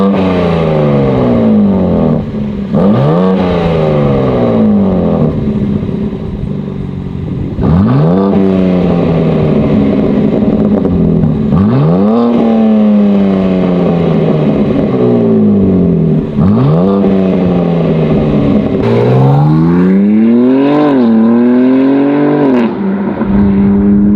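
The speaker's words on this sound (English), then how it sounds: "So we'll show you some revs" A BMW G80 M3 CS with a 2-into-1 exhaust, revved repeatedly while stationary, each loud blip rising and falling in pitch, about five close, strong rev cycles over a steady idle with no talking.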